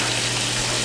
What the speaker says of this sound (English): let your hot water run down the disposal there for a minute